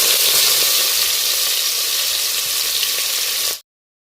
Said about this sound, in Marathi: तेल आपलं गरम झालंय आपण जिरे मोरी टाकूया